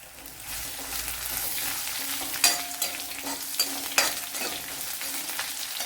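Garlic cloves and crushed ginger fry in a pan for a gooseberry thoran, a steady close sizzle with occasional stirring clinks and scrapes, no speech.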